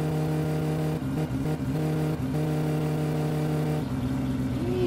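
Car engine in the video game My Summer Car revving steadily near the rev limiter, with a sustained buzzing drone that dips and cuts out briefly several times, alone with no talk.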